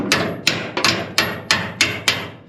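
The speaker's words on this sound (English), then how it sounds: "Now it needs a little bit of a love tap." Seven sharp taps from an improvised hammer in a steady rhythm, each ringing briefly, close and fairly loud.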